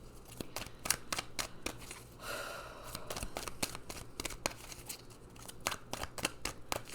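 Oracle cards riffled and shuffled by hand in a quiet room, a run of crisp papery flicks and snaps in quick irregular bursts, close and fairly soft, with a short pause midway.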